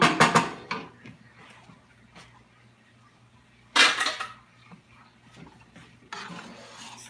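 Spaghetti is stirred together with sauce in a pot. Short bursts of scraping and clinking come at the start, in the middle and near the end, with quieter gaps between them.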